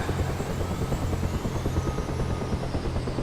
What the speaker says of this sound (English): That had to be the smoothest landing approach I've ever made in this helicopter